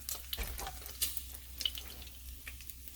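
Pork frying in a pan gives off a close, dense sizzle broken by irregular sharp pops and crackles over about three seconds, with no voices.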